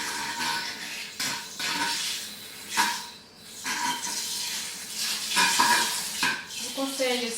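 A homemade dish soap mixture thickened with xanthan gum is stirred in a container, giving repeated scraping and clinking strokes over a wet, swishing background, moderately loud, with no talk.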